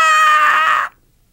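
A dense, over-compressed, squashed tone holds flat and loud for under a second, with no dynamic swell, then cuts off abruptly into silence.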